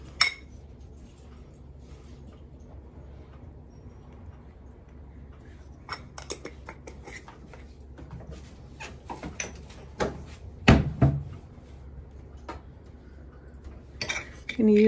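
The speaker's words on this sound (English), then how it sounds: "Gonna use my fork and just kind of mix that" A fork mixing sugar and cinnamon on a plate, with scattered light scrapes and taps of metal on the plate, building to a few sharper clinks near the end, close and quiet over faint background.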